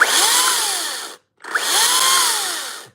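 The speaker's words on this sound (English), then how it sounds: "Trimming branches off a tree." A power tool trimming branches off a tree: two loud, close sustained whining bursts separated by a brief pause, the pitch easing slightly within each burst.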